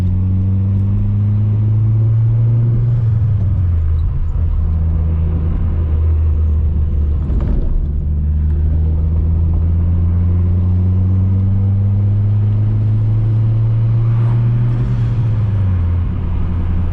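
Turbocharged Nissan Sentra Spec V heard from inside on its first drive, loud engine drone rising through gears with shifts, steady road rumble throughout.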